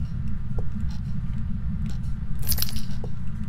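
Car keys picked up in the Phasmophobia video game at Bleasdale Farmhouse, a brief metallic jingle and clink midway over a steady low rumble, with faint taps before and after.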